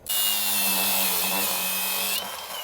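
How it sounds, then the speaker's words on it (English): Power tool driving a socket to snug down lift kit hardware on a K20 Squarebody Suburban, a single loud continuous whine lasting about two seconds before cutting off, close up with no talking. "Quick snug this hardware down as far as I can before the socket bottoms out."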